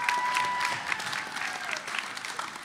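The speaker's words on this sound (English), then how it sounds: "Give your poet a round of applause." An audience at a high school spoken word poetry event claps for a poet, a dense, steady round of applause that trails off slightly toward the end, with a faint tone running beneath.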